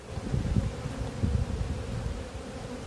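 Honeybees buzz steadily around an open hive at an apiary, a close, continuous drone with a fluttering texture that lasts the whole moment.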